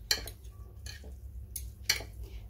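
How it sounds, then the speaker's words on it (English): Noodles being mixed in a bowl, a few faint clinks and scrapes of utensil against the bowl spaced out in a quiet room. "I'm going to mix it."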